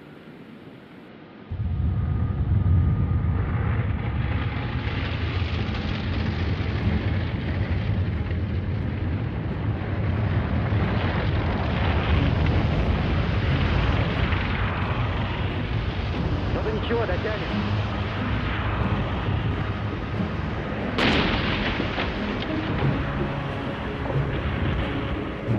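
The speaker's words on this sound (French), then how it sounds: "Les soldats roumains entendent soudain la terre gronder." Deep continuous rumbling like a distant artillery barrage, booming and rolling without pause, with a sharp crack near the end.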